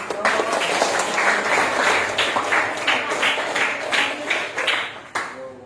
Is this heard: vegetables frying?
no